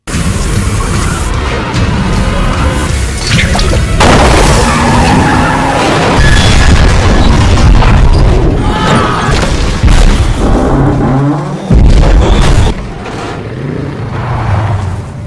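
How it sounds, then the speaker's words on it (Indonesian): A bus crashes and tumbles onto its side after being brought down by barbed wire in a horror film scene, a loud, sustained stretch of skidding, booming impacts and scraping wreckage with no speech. "Setelah membuat bus mereka terjatuh dengan kawat berdurinya"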